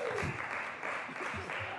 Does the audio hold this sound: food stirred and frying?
no